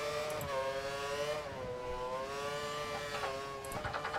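F1 race car engine in the F1 2013 racing game at the Hungary qualifying, screaming steadily at high revs with rising and dipping pitch through gear changes, loud and continuous, no talk.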